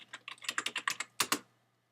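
Quick bursts of clacking on a computer keyboard, about a dozen close keystrokes in an uneven run ending with two harder taps, with no voices.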